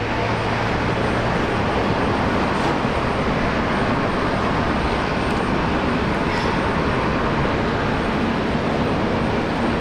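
A Singapore Airlines plane landing at Brisbane Airport, a loud, broad, continuous roar of jet engines and rushing air that holds steady throughout with no break.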